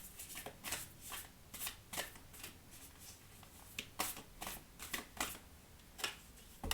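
Oracle cards shuffled by hand: soft, quiet riffling with a quick irregular series of crisp papery snaps and flutters, close by and heard alone.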